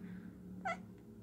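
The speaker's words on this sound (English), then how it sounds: "This cat, man, this freaking cat, come here." A cat gives one short, faint meow midway through a quiet indoor moment, with a low steady hum underneath.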